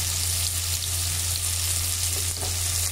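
Chopped onion, curry leaves and green chillies fry in hot oil with a loud, steady close sizzle and a low hum underneath, no talking.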